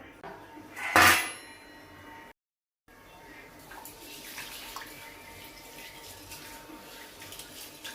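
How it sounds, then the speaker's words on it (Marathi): Rice being rinsed in a pot of water while making khichdi in a home kitchen: a loud splashing clatter near the start, a brief gap, then a quieter, steady sloshing of water and grains. "तोपर्यंत तांदूळ धुवून घेऊया."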